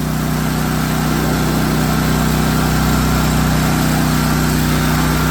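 A Philking PK1700 generator runs under a load test with a constant, loud, buzzing engine drone and steady hum that holds without change throughout, up close and with no voices.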